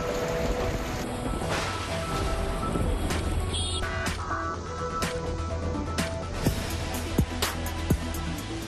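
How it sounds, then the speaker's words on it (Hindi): Heavy monsoon rain pours down in Lucknow, a steady dense hiss with scattered sharper drops and splashes throughout, fairly loud and close with no voices. "आसमान में बादल, झमाझम बरसात"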